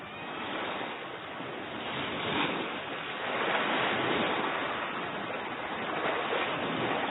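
Water washes steadily at the edge of a lagoon in a continuous, fairly loud broadband rush with gentle swells, wind-like and unbroken, with no voices.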